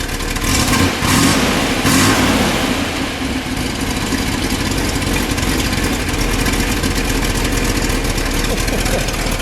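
A 1965 Chevrolet Corvette coupe with the 327 cubic-inch, 365-horsepower engine, recorded up close and loud: a few sharp revs at the start, then a lumpy, rumbling idle that carries on steadily.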